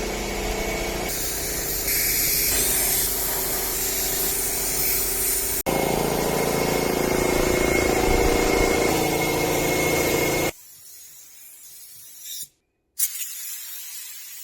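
A Toyota Yaris being spray painted, a loud continuous hiss of the spray gun with a compressor or engine drone underneath, stopping abruptly partway through, then near quiet with a brief click.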